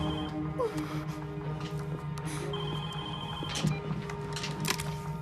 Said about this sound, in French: Décroche ce téléphone.